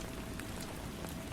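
Steady rain falls on a surface as a dense, even hiss of drops with no other sounds, close and moderately loud throughout.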